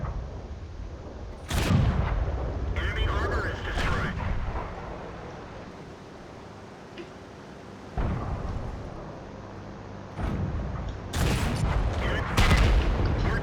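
A T29 tank's main gun fires in World of Tanks with deep, booming blasts, several heavy shots spaced across the stretch, with rumbling battle ambience between them.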